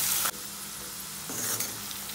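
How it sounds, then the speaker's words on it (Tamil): Finely chopped onions fry in a pan for a lunch-box dish. The sizzle is loud and steady, with a brief sharper burst at the very start and a few stirring scrapes late in the clip. Nobody speaks. "பொடி பொடியாக நறுக்கி வச்ச வெங்காயம், நல்லா ஃப்ரை பண்ணி விட்டுக்கோங்க"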